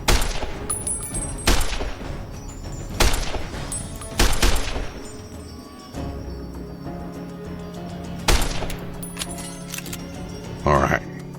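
Bullets are shot into a house during a video game firefight, with sharp gunshot bursts and scattered single cracks at irregular intervals, separated by quieter stretches under a low hum, and someone talks over the shooting.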